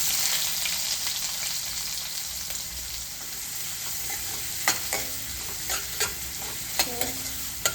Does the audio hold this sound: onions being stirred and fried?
yes